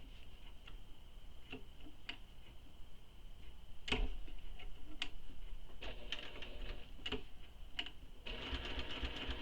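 A sewing machine stitches a handbag, giving soft, spaced ticking needle strokes close by that break into a quick, steady burst of stitching at the end.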